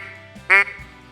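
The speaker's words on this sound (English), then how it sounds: "you're going to get a flat quack." A duck call blown with too little air pressure gives one short flat, nasal quack, close and loud, standing alone with quiet background before and after.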